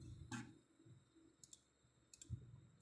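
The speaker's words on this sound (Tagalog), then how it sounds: "Double click po natin." Computer mouse double-clicking on a software installer, two sets of sharp paired clicks a second apart, close and quiet over a faint room hum.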